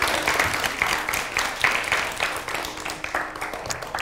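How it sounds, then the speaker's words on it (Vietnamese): An audience at a matchmaking show breaks into dense, sustained applause, many hands clapping together in a steady close wash of sound, with faint voices underneath. "mọi người vỗ tay đi nào."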